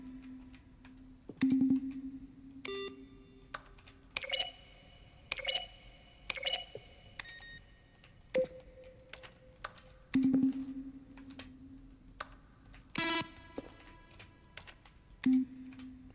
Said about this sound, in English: A selection of sounds used throughout the game when buttons are pressed. Each sound is a mix of a keyboard stroke and a synthesized tone.